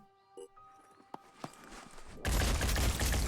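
Gunfire in the turn-based game Phoenix Point: a few sharp isolated cracks and clicks, then a dense loud burst of rapid shots that fills the last second, with no one talking.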